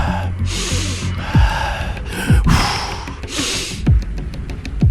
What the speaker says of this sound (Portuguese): como se algo estivesse farejando ou respirando nos vãos das janelas